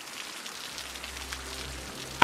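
Rain in the city-building game Cities: Skylines falls as a steady, soft hiss of drops on surfaces, faint and unbroken with no talking.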